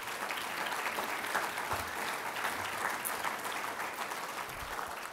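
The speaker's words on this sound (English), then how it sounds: "So one last round of applause for all of them for making today's event so special." Steady applause from a graduation salute audience thanking faculty and staff, dense clapping sustained at even loudness with a faint crowd murmur underneath.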